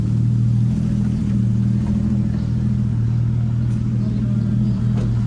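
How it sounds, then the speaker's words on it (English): A car drives along a street near Echo Beach in Canggu, Bali, giving a steady, fairly loud low engine rumble that holds for several seconds without a break. "Interesting car to see in Bali."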